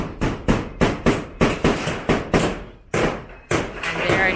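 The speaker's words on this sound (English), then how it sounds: "now nailing the umbrella nail" Steady hammer blows drive umbrella nails into roofing sheets on a budget bungalow build in the Philippines, roughly two sharp, ringing strikes per second with a short pause midway, close and loud.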